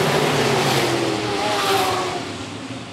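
IMCA modified race cars on a dirt track roar past in a loud, rising and falling engine drone, with a race announcer's voice faintly under the noise.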